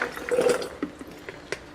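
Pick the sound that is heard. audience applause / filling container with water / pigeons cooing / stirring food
filling container with water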